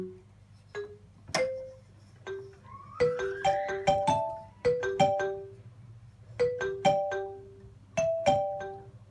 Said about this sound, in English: I'm trying to do the iPhone ringtone.